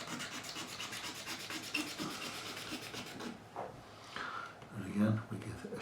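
Scraping along the edge of a fret on a Squier '72 Telecaster neck during fret levelling, a close, rasping rub in repeated strokes, with someone talking over it.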